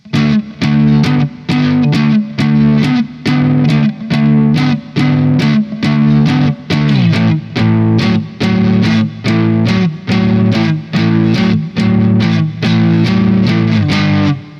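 Distorted electric guitar chords played in short, choppy staccato bursts, a loud steady rhythm of clipped strums repeating throughout.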